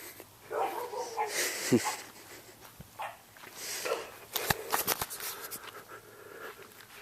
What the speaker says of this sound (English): My dog's barking down there.